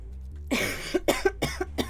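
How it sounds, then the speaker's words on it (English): A short bout of coughing, several harsh bursts in quick succession, close and fairly loud, after a moment of quiet. "Why am I coughing like this?"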